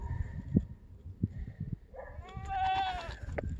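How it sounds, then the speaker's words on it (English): After some faint shuffling, a male goat lets out a single drawn-out, quavering bleat, fairly close and prominent, fading at the end. "Sounds like it's a male."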